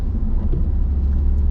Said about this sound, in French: On accélère.